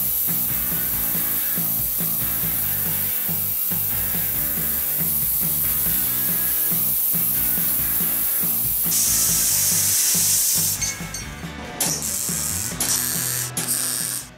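Steel plate being cut for a Kubota mower deck repair, a loud continuous grinding-cutting roar with gritty rasping texture, changing pitch and breaking up near the end as the cut finishes.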